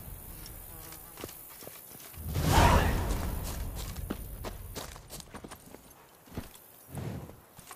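Geralt's horse gallops in The Witcher 3: Blood and Wine, a steady clip-clop of hooves with a whooshing swell of movement, moderately loud, with brief speech partway through.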